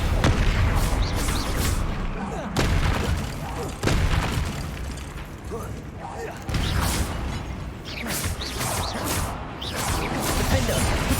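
Heavy magical impacts slam down repeatedly in a Hogwarts Legacy troll fight as the Descendo spell hurls enemies to the ground, loud booming crashes at intervals over a dense battle din.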